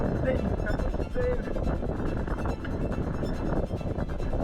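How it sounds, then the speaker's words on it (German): Strong offshore wind at sea blows across the microphone as a continuous loud roar and buffeting rush, with spray and water noise mixed in. "der Wind ist so stark, der bläst den Spray so sehr, dass ich nichts sehen kann."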